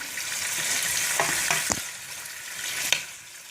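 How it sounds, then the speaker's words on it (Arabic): Chicken pieces fry in a pan for chtitha, giving a continuous soft sizzle with a few stirring clinks and scrapes close by, no voices. "نخليهم يتقلاو شويه برك، ماشي بزاف"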